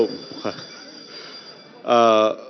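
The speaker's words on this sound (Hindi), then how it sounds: "घंटी बज गई।" Voices speak briefly during a televised debate, then a loud electric bell rings for about half a second, buzzing and harsh.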